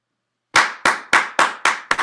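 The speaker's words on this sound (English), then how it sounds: "Let's give a round of applause for Marlon." Six sharp, evenly spaced hand claps from a single person, close and loud, after a speaker's talk at a Toastmasters meeting, each clap ringing briefly before the next.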